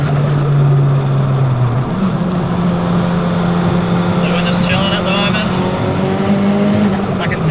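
Mitsubishi Lancer on snow tyres with worn shocks and lowered springs, driven hard: a loud, sustained engine roar with rising and shifting pitch, tyres squealing throughout, close and continuous.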